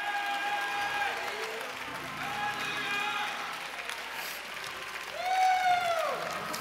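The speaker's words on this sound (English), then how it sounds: "Go ahead, clap and shout." Church congregation at a revival service clapping and shouting, a steady crowd roar beneath sustained musical tones and voices, swelling louder toward the end.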